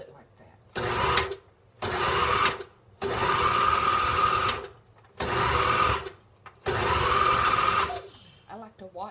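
A blender pulses hot sauce salsa in five whirring bursts of a second or two each, separated by short pauses, loud and close with no talk.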